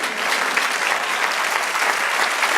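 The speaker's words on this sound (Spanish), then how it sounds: "Dale otro aplauso al Señor." Church congregation applauding together, a steady, dense wash of many hands clapping at full volume with no pauses, continuing unbroken from start to finish.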